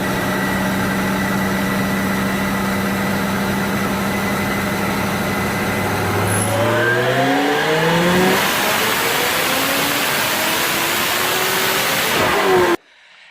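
2005 Chevrolet Corvette on a chassis dyno, engine idling steadily before revving hard with rising, climbing pitch sweeps, then cutting off abruptly near the end.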